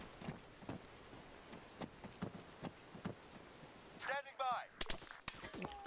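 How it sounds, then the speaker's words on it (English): Gunfire in ARMA 3 arrives as a series of sharp, distant cracks spaced irregularly, followed by a louder close burst of shots and a brief whooshing sweep. A voice speaks faintly underneath. "Crap, taking fire from somewhere."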